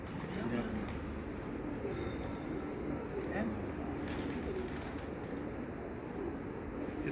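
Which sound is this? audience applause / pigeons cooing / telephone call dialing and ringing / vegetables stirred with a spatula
pigeons cooing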